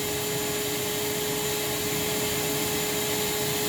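A Fairfax vacuum cleaner runs steadily throughout an airflow test, a loud continuous whine with a fixed tone over broadband rushing air, with no voices.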